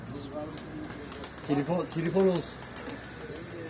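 Pigeons coo in a few soft, rolling calls close by, under a faint background hiss, with people talking nearby.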